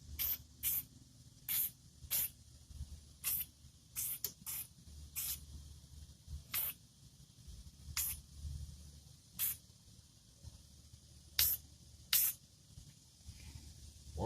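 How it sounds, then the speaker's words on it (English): Short bursts of aerosol spray hiss repeatedly at irregular intervals, coating bare steel Ford brake line clips and brackets, each a sharp quick spritz over a quiet, low background. "I'll spray this for tonight."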